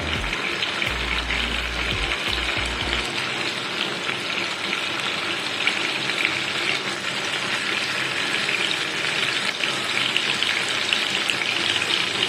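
Paneer cubes sauté in a pan for hotel-style paneer lababdar, giving a steady, even sizzle that holds loud and unbroken throughout with no talk over it.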